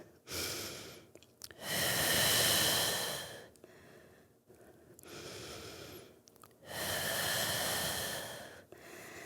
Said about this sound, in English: coming back through center, a couple big deep breaths